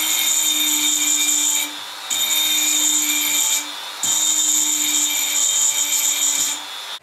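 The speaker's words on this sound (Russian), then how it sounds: "Вот, снимаю дремелем сколько-то." A Dremel rotary tool grinds metal on a 1990s Chinese sewing machine in three long, steady high-pitched whining passes separated by brief pauses, close and clear with no talk.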